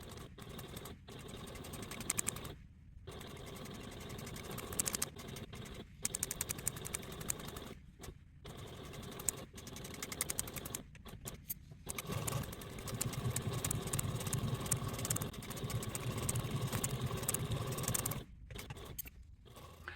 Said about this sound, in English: we will take the sewing machine and tap stitch at a 1/8 seam allowance